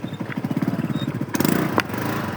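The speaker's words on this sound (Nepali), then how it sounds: "गाइस हाम्रो स्कुटीको आवाज पहिलाको जस्तै आउनु लाग्यो" A scooter engine idles and revs close by, with a rapid pulsing putter, a brief louder burst midway and a sharp click, then settles back to a steady running note.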